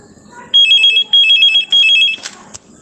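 A telephone rings close and loud, three electronic trilling bursts separated by short pauses, followed by a couple of faint clicks in an otherwise quiet space.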